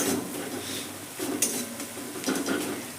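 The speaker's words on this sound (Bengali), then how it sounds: "এই ছোটো চামচে 1 চামচ পাওভাজি মশলা দিয়ে কিন্তু আমি আবার একবার নেড়ে নেবো" A small spoonful of pav bhaji masala stirred through a pan of cooking vegetables, with a steady soft scraping and light clinks of a spoon against metal, close and continuous with no talking.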